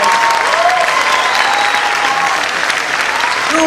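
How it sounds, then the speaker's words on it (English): Audience at a school event applauds teachers and parents, a steady, dense wash of clapping filling the room at full level, with faint voices and cheers mixed into the crowd. "Give them a loud round of applause."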